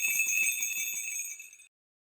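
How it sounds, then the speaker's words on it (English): Silver bells hanging from reindeer harnesses on Santa's sleigh ring in a bright, shimmering, steadily pulsing chime that fades and then stops abruptly after under two seconds. "ringing the silver bells that hung from their harnesses."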